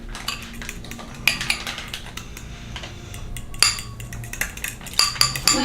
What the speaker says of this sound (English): Thicken up that wash. And we're gonna have Issa mix it up.